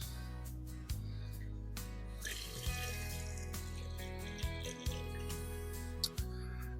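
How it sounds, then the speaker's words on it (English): Water runs and splashes steadily as a gold panning bucket is emptied into a basin, with a low hum underneath and occasional knocks and clunks. "And let's dump this water out."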